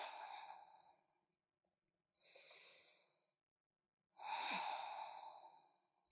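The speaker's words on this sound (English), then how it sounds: "3 deep breaths." Three long, deep breaths during a vinyasa yoga session, each a slow airy exhale or inhale separated by short silences, close and breathy with no words spoken.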